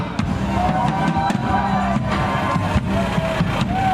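Applause and cheering from a festival crowd at a Pignarulars entrance procession, a dense steady wash of clapping with scattered sharp bangs and shouts throughout.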